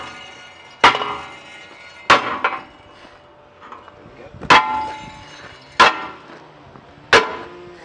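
A sledgehammer strikes a rusty mini excavator blade in five loud, ringing metallic blows spaced about a second or more apart, each ringing out briefly before the next.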